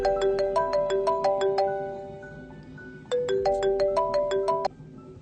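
Mobile phone ringtone playing a bright repeating melodic pattern of quick chiming notes, loud and close, in two bursts with a short pause between them.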